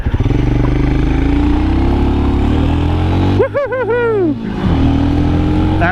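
A Royal Enfield Scram 411 motorcycle engine opened to full throttle during break-in, a loud steady rising drone with rapid wavering pitch swoops near the end, close and continuous.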